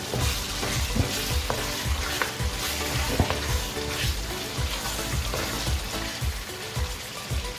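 Beef karahi being stirred in a hot pan as it fries with coriander powder, cumin powder and turmeric: steady sizzling underneath, with a rhythmic run of scraping, clacking stirring strokes close by and no voices.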